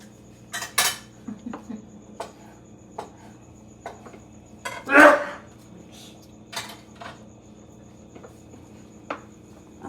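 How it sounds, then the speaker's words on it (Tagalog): A utensil stirs a pot of bilo-bilo, giving sparse scrapes and light clinks with one louder clank midway. Crickets chirp faintly and steadily in the background. "Hinahalo niyo ito, Nay?"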